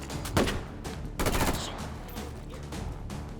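Gunfire from a gun in a video game comes in a few loud bursts of rapid shots, with noisy action continuing between volleys.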